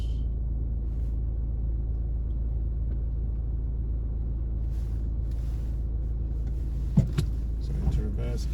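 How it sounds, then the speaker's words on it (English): Car reversing out of a space in a car park during a driving test route in Chilwell, Long Eaton, with a low steady engine rumble throughout and a few brief clicks and knocks near the end. "and then I will reverse out."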